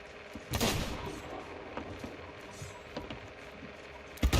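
Gunfire in the Sea of Thieves game, with one sharp near shot early on and fainter pops scattered through the clip. Another loud shot closes it.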